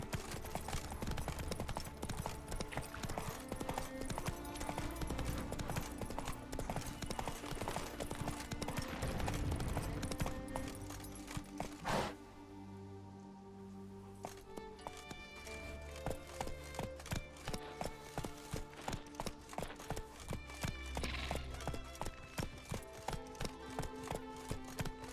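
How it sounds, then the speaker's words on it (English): In the Witcher 3 video game, the horse gallops with a rapid, continuous clip-clop of hooves under dense game music and ambience, briefly easing around the middle before the rhythmic hoofbeats resume. "Run, Roach."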